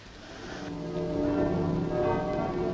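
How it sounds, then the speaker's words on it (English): Church bells pealing, a rich ringing wash of overlapping tones that swells gradually from moderate to full and holds steady, with no voices. "So the bells are pealing after all, Edmund"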